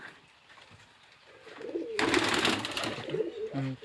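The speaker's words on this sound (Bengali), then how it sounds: "কবুতরটাও আমি হাতে ধরে দেখাচ্ছি আপনাদেরকে" A Deshi Giribaz pigeon held in the hand gives a short, low coo near the end after a burst of rustling and fluttering, all faint and close.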